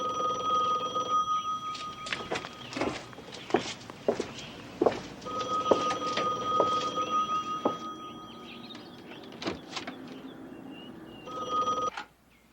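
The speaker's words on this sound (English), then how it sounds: "Your phone is ringing." A telephone bell rings in repeated bursts indoors, clear and fairly close, with faint footsteps moving around between the rings.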